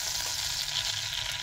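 Butter sizzles and melts in a pan with a steady, close, hissing crackle that runs unbroken throughout, with no voices over it.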